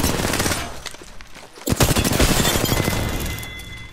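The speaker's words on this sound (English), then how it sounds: "I am taking fire" Rapid automatic gunfire in the battle-royale game Apex Legends, loud and close, with dense bursts that thin briefly then resume harder and keep rattling to the end.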